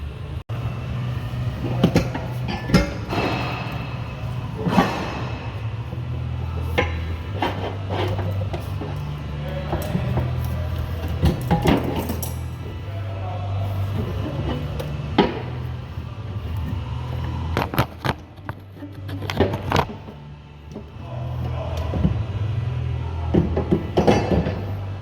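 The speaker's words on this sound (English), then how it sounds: "Just got to separate it from the elbow going to the turbo and slide it forward and out" Plastic clunks, knocks and scraping rattles as an engine airbox on an International S13 truck is pulled off the turbo elbow and slid forward out of its brackets, irregular close handling noises over a low steady hum.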